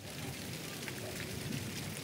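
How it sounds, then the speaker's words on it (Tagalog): Heavy rain pours down steadily at a fishing pond, a dense, even hiss of drops on the surface, fairly quiet and continuous. "so lakas ng ulan"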